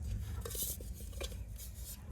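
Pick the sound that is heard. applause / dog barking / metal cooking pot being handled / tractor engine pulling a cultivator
metal cooking pot being handled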